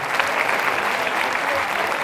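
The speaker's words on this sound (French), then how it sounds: "Applaudissements pour Omeima, viens." Loud, dense applause from a comedy show audience, continuous many-handed clapping filling the room throughout the brief stretch with no voices on top.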